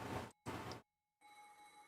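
A telephone rings in two loud bursts of bright bell-like tone, then goes quiet before a fainter, thinner ring starts up, with no voices over it.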